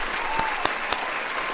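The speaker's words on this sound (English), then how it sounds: "Round of applause!" Steady crowd applause with a few sharp louder claps standing out near the listener, a dense even wash of clapping that holds throughout.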